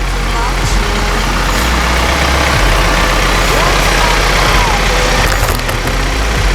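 A farm tractor's engine idles with a steady, loud low rumble throughout, used with forks while moving a pump house on a farm, continuous and unchanging under faint background sounds.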